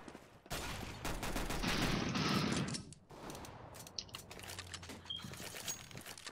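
Gunfire in the shooter game CS:GO, a loud burst of rapid shots lasting about two seconds, then quieter scattered shots and game noise.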